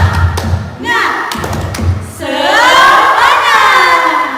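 A children's Sunday school group claps in unison, then breaks into a loud shouted chant together, close and energetic.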